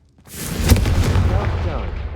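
Confringo fire spell blast in Hogwarts Legacy: a sudden loud whooshing burst that swells to a rumbling boom and then a long crackling fiery tail, with a voice heard alongside.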